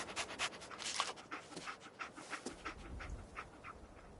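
Dogmeat, the dog companion in the video game Fallout 4, pants in quick, rhythmic breaths close by, a light panting with faint whimpering undertones and no speech.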